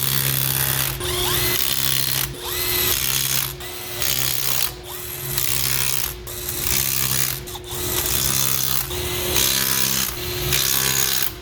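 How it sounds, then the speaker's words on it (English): A powered gun drives bolts tight on a Ford 6.7 diesel engine, repeated close bursts of whirring, rattling mechanical noise, about eight separate runs each lasting roughly a second with short gaps between. "I know the power of my tool, my gun that I'm going to use, and just watching the bolt"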